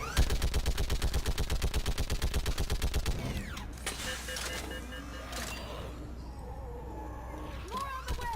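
Automatic gunfire in the video game Mass Effect 3: a rapid, steady stream of loud shots for about three seconds, then scattered bursts, impacts and battle noise, with shouted voices in the mix.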